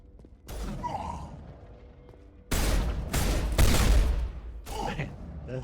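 Explosive rounds fired in the video game Mass Effect, several heavy booming bursts in close succession, loud and near, with game noise and a voice nearby.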